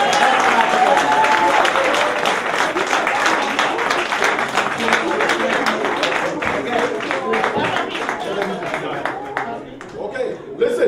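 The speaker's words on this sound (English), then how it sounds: "Everybody, let's clap again," Audience at an 80th birthday party clapping steadily and loudly throughout, a dense continuous patter with crowd voices mixed in.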